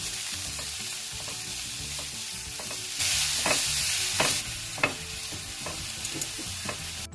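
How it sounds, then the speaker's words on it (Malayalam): Finely chopped onion sautés in hot oil in a pan, a steady sizzle punctuated by scraping stirs of a spatula, with a brief louder hiss burst midway; no voices. "ആ സവോള ചെറുതായി അരിഞ്ഞത് ചേർത്ത് കൊടുക്കാം. എന്നിട്ട് നന്നായി വഴറ്റിയെടുക്കാം."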